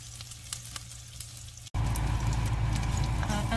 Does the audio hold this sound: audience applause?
no